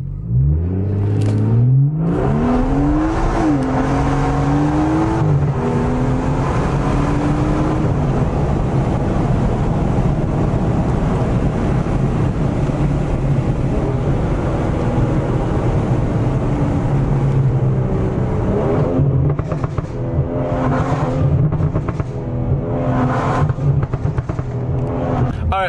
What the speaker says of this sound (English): So that was a 0-60 for you guys for 340 with the JB4